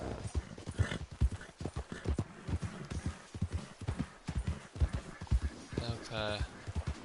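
Horse hooves pound in a rapid galloping rhythm in Red Dead Redemption II, close and loud, ending with a short whinny; a person talks over it.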